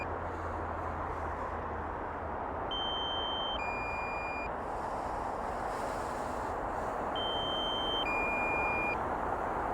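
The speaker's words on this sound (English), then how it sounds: "I'm going to put the beeping noise away from the mic so it doesn't disturb the video." Pairs of short electronic beeps from a drone controller repeat twice over a steady rumbling background, fairly faint and distant.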